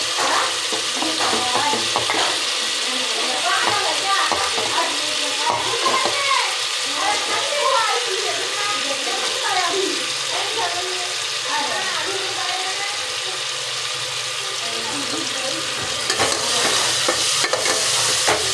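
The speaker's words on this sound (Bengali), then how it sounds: "ভালো করে নেড়ে নেবো, একটু ভেজে" Chana dal stirred and fried in a pan, a continuous close sizzle with scraping stirs and clinks of a spatula, while someone talks over it.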